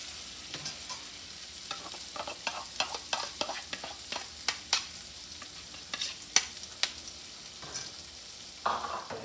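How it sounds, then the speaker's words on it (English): Chopped shallots sauté in melted butter in a frying pan with a soft, steady sizzle. A utensil stirs and scrapes in irregular clicks and knocks, close and fairly quiet. "We're just going to keep them sauteing."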